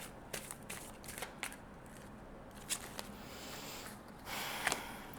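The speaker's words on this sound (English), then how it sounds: "I feel like I need to give them a big shuffle after all this." Tarot cards being given a big shuffle at a table, with a series of short, soft riffling bursts and a longer brisk shuffle near the end, fairly faint and with no talking over it.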